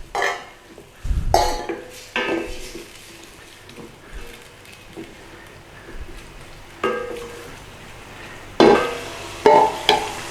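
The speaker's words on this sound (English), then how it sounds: "Right, in with our tomatoes. Get the tomatoes in there." Tomatoes go into a pan with butter, onions and garlic, with spoon stirring, clinks against the pan and a soft sizzle in uneven bursts close by.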